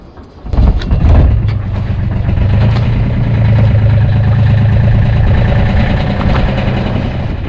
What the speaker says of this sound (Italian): Mettiamo in moto e partiamo.